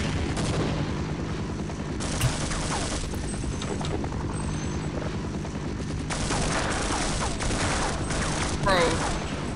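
Half-Life gameplay with bursts of magnum and other gunfire, loud and repeated, mixed with explosions and game noise; someone talks over parts of it.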